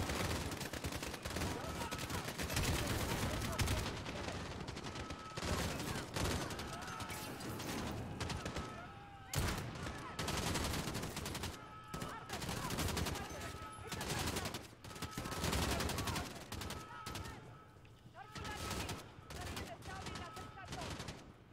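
Heavy gunfire in the Modern Warfare campaign mission Proxy War, with dense, continuous bursts of rifle and machine-gun fire and sharp cracks over more than twenty seconds, loud and close, with battle noise throughout and occasional voices.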